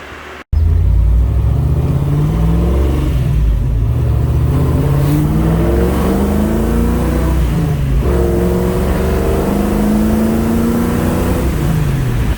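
A Ford Thunderbird engine with a freshly rebuilt carburetor and new fuel lines starts abruptly, then runs loud and close at a rough idle, with a few swelling revs rising and falling.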